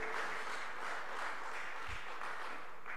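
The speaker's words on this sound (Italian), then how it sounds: "facciamogli anche un applauso" Faint, steady applause from an audience, a dense wash of clapping that continues evenly throughout.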